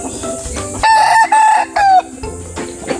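Breeder rooster crowing loudly and close by, one long drawn-out crow broken into three strained bursts, with clucking from other chickens around it.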